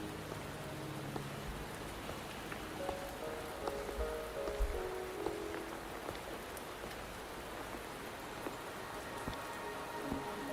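Rain falling in a video game, a soft, even patter of drops hitting surfaces that holds steady throughout, moderately quiet, with faint musical notes drifting underneath.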